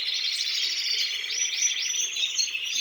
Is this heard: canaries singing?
yes